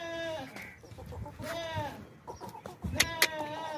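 A plump, healthy milk goat at a livestock sale gives a few nasal, wavering bleats close by, with a sharper call near the end and faint background noise.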